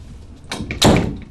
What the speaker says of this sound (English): Oh, Evelyn, could you close the door, please?